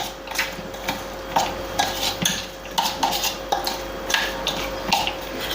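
A masala peanut mixture with soda and ajwain is stirred by hand in a bowl, giving repeated soft scraping and rustling strokes at a steady rhythm, close and moderately loud, with no talking.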